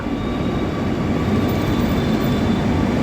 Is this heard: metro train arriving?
yes